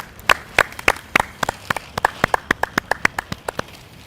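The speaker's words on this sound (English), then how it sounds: "Give her a big clap." Sparse, distinct handclaps from a small audience for a speaker in a health and life skills lesson, a few near, individual claps in an uneven rhythm with no talk.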